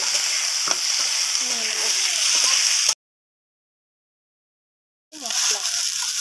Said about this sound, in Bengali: দিয়ে দেবো টমেটোগুলো একটুখানি ভেজে